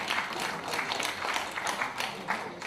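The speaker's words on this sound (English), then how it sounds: "Please give him a round of applause." Audience applause at a University of Lagos Business School event, a steady, dense wash of many hands clapping that lasts the whole stretch without pausing.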